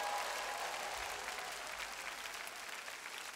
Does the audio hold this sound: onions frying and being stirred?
no